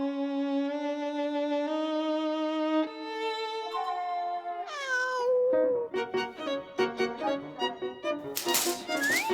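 Two pet cats meow at home in a shared community house in Seoul, with a string of drawn-out, tonal cries followed by shorter, choppier meows and rattling near the end.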